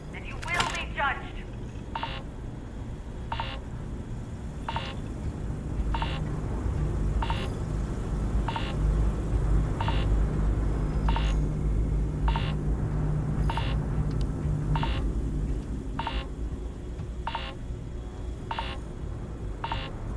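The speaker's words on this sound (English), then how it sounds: "Please tell me you're going to actually turn around and do something about the beeping." Regular electronic beeping in the video game Starfield, a short tone repeating about every 1.5 seconds for twenty seconds over a low rumbling game soundscape, with speech in the background.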